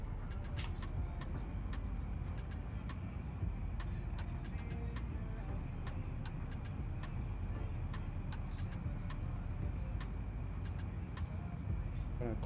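A spaceship in the Dual Universe video game lifts off with a steady mechanical engine drone, overlaid by regular faint ticking and clicking, continuous and moderately quiet.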